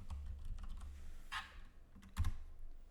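Quiet, close keystrokes on a computer keyboard while entering Mathematica commands: a few scattered soft taps and a short cluster of clicks, with no talking.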